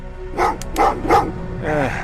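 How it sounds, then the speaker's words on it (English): Several dogs bark in quick, loud bursts, with yips and a whining tail at the end, heard up close over a low background rumble. "What's with the dogs?"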